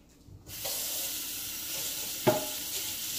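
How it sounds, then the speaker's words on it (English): Beans sizzling steadily in hot oil in a pot, a continuous close frying hiss with a brief stir or clink partway through. "And now I'm going to fry up my beans, okay?"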